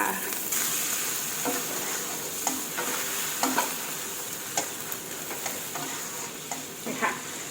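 Bamboo shoots stir-frying in a pan for a dish with egg, with a continuous loud sizzle broken by repeated scraping knocks of a spatula tossing them.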